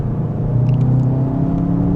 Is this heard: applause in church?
no